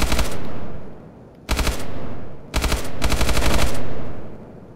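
Automatic gunfire in a video game rakes an armored jeep in three loud, close bursts of rapid shots, separated by short pauses.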